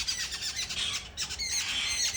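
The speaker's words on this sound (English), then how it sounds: "that's a parrot sitting on the same tree and trying to communicate to each other" A parrot squawking from jungle trees behind a house, repeated harsh cries close by, loud and continuous with no talk.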